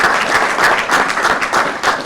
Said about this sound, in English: let's give those individuals a round of applause for supporting you through your journey here